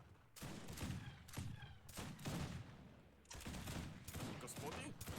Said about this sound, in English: Oh, mountain artillery.